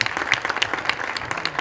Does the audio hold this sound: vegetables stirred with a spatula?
no